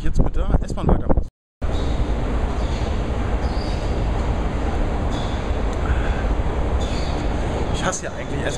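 An S-Bahn commuter train rumbles and rolls steadily, with a brief break near the start, then continuous rail noise and occasional faint squeals from the wheels.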